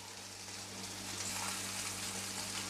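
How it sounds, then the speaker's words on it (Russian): Eggplant frying in a pan until crusted, a steady loud sizzle of hot oil hissing continuously and swelling slightly, with a low kitchen hum underneath and no voices. "Они не тушатся, а именно жарятся."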